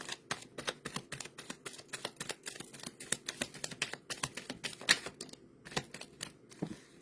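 A deck of cards is shuffled up close, a quiet, steady run of crisp snapping clicks that continues throughout with only brief pauses.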